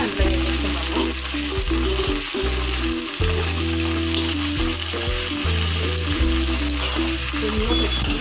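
Chicken pieces frying for fry piece biryani, sizzling loudly and steadily in a hot pan with stirring and scraping throughout, no voices.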